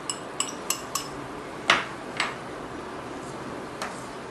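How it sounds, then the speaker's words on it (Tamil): A spoon clinks against a bowl while butter, cocoa powder and other chocolate fudge ingredients are stirred together, several sharp metallic taps spaced irregularly over a quiet background, with no talking. "எல்லாத்தையும் நல்லா கலந்து வச்சுக்கோங்க ரெடியாக"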